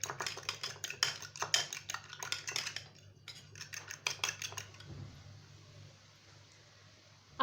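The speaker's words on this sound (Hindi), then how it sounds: "इसको अच्छी तरह से फेंट लेंगे।" Egg, salt and chili mixture whisked in a bowl, a quick run of close metallic clinks and scrapes for several seconds that slows and trails off into quiet near the end.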